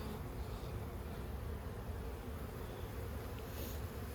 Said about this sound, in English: See, there's bees there.